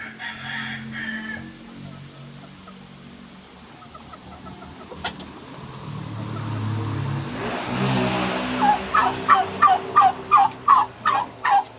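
After a stretch of low background rumble and a passing car, a turkey gobbles loudly in a fast series of rhythmic bursts close by.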